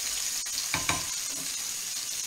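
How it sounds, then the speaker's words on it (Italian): Octopus and peppers browning in a pan, a steady bright sizzle with two short stirring or scraping bursts near the middle, fairly quiet and with no voices. "Prendiamo il nostro attrezzino e facciamo rosolare per bene."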